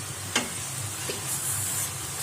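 Raw banana chips fry in oil over a low flame with a constant soft sizzle and a couple of light stirring clinks.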